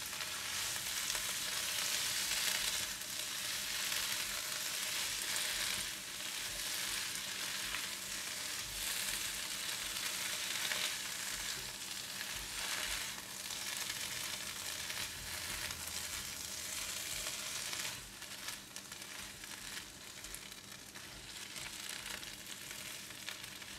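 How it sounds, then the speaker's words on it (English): Cabbage stir-frying in a hot pan with luffa and egg to follow, a steady close sizzle with faint scraping from stirring, continuous and unbroken, with no voices. "Add in the cabbage. Give it a stir for about 30 seconds, just for the cabbage to slightly soften."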